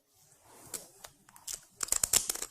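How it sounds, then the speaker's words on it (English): A miniature deck of playing cards is shuffled by hand, with soft papery rustles building into quick crisp riffling bursts that grow louder toward the end. "give the miniature deck of cards a little mini shuffle"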